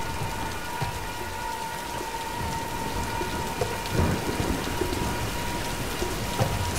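A rainstorm with thunder in the video game Tomb Raider: steady heavy rain hisses throughout while low thunder rumbles swell around the middle and near the end.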